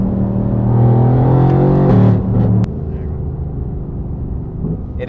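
Twin-turbo V8 of a 900 bhp Mercedes-AMG GT R, meth injected, accelerating hard with a loud rising engine drone, then backing off to a lower hum, heard from inside the car.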